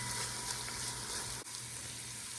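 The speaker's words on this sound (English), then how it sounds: "Time to brown the pork loin." A flour-coated pork loin browning in a hot pan, with a steady, dense sizzle and crackle throughout and a brief dip midway, close and fairly quiet, with no talking.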